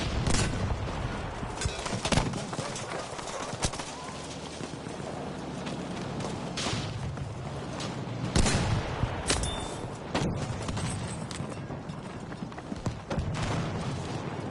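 Battlefield V multiplayer combat with covering gunfire, scattered sharp shots and bursts at mid distance through a continuous battle din, no talk.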